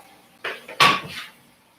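A frying pan being handled among pots and pans in a kitchen, a few close metallic clanks and scrapes with one sharp ringing clang in the middle, then quiet.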